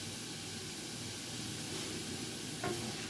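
Onions sweating in a pan for hot dog topping, a soft steady sizzle and hiss, close and continuous with a brief stir scrape near the end.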